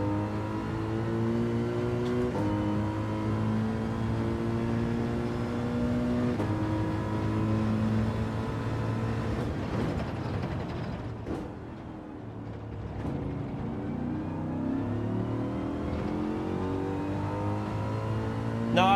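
A race car engine on a lap in Gran Turismo 7, run on tyres now warmed up, drones loud and close, its pitch climbing through the gears with shifts, dipping once under braking and then revving back up, with no talk over it.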